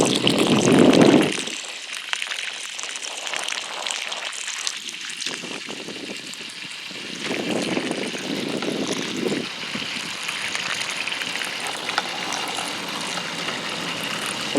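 Water runs from a garden hose onto saturated, well-draining soil beside a house footer, making a steady splashing, trickling wash. A louder gush comes at the start, then the flow continues fairly close and unbroken.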